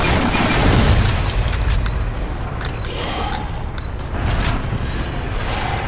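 Explosions in the Alien Swarm Reactive Drop shooter game: dense, loud rumbling blasts with crackling bursts and a second swell later, continuous game noise throughout.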